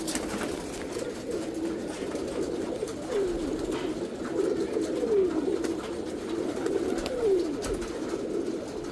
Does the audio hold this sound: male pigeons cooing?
yes